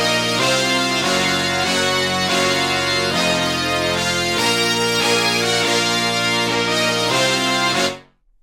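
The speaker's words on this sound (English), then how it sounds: "first I started off with this brass melody" Dense, loud brass melody in a distorted FL Studio beat, playing continuously over thick low-end chords before cutting off abruptly near the end.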